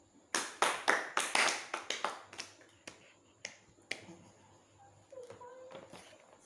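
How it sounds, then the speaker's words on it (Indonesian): Applause for a student in a classroom: a burst of many hands clapping, loud and close at first, then thinning to scattered claps and fading under faint room noise. "kita beri aplaus untuk Rani"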